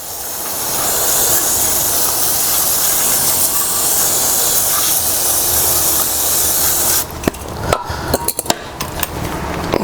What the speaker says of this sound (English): I'm going to clean this part here with some brake cleaner as well